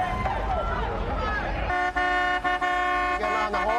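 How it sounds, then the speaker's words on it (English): Car horn honking at a drag race, where a 350 Chevy-powered car sits on the pad: a sustained toot follows a stretch of engine rumble, with a few short breaks, loud and near. "Getting on the horn a little bit."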